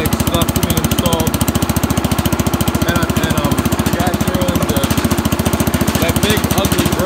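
A Wards-Gilson hydrostatic garden tractor's small engine chugs in a rapid, even thumping rhythm while pulling big logs, close and steady for the whole stretch.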